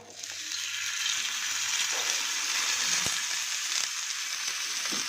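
Sankara fish frying on a flat dosa tawa over low flame, a steady close sizzle and crackle of hot oil running continuously with a few soft clicks, no talking.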